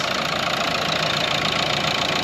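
A Nissan Pulsar engine idles steadily and loudly up close after new heater plugs were fitted, a continuous rough mechanical drone with a faint knocking pulse and no talk.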